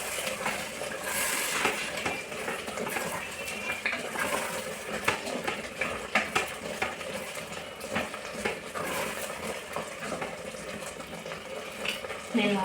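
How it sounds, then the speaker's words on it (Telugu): Masala being stirred in a pot for gongura mutton curry gives soft scraping and light clinks of a spoon against metal, with faint wet sizzling under it, fairly quiet and steady throughout. "ఒకసారి బాగా కలుపుకున్నాం."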